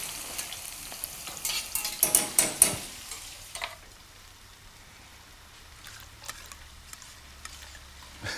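Chilies and salt fry in a pan, going golden, with a close, crackling sizzle and some stirring clatter early on, then settling into a softer, steady hiss and scattered pops.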